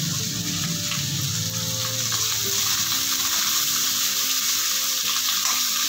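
Chopped onion and garlic sizzle steadily in a hot pan for a bitter gourd gravy, with a constant close frying hiss and occasional soft scrapes as they are stirred, and no voices.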